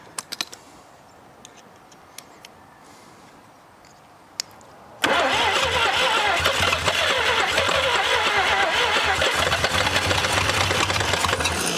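A 1947 International KB3 truck's engine, long locked up and being rebuilt, cranks briefly with ticking, then catches and runs loud and steady, rough and rattly, after a quiet stretch of faint clicks.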